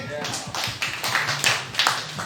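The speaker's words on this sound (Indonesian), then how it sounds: "Tepuk tangan lagi." An audience at a coffee product launch claps in a short series of distinct, rhythmic bursts, with a voice briefly audible underneath.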